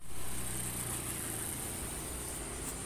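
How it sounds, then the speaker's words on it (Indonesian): A rough-running engine with a worn piston connecting rod and bearing produces a steady, continuous low rumble at close range, with a grainy, uneven roughness throughout and no talking. "Itu permasalahannya yang menyebabkan mesin itu suaranya kasar, terus gemuruh ya."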